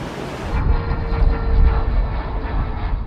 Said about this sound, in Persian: این هواپیمای نیروی دریایی ایران که احتمالاً برای شناسایی آمده بود بیش از حد به ناو نزدیک شد